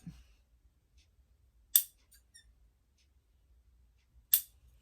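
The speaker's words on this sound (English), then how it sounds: "just do a little snip" Two sharp, isolated snips of scissors cutting fabric for a convertible pack, close and crisp, separated by a couple of seconds of near silence.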